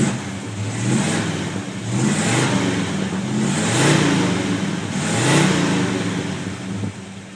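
A 1956 Chevy Bel Air with stock-style mufflers runs close by, its engine revving in four smooth, rising-and-falling swells over a steady idle, producing a mellow, moderately loud exhaust note.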